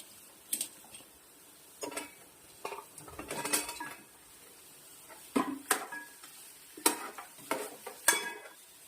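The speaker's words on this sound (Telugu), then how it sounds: "ఇప్పుడు తలకాయ కూర వేద్దామండి." Goat head meat is tipped into a pan and stirred, with metal spoon scrapes and clanks against the pan coming in irregular bursts over a low, steady sizzle.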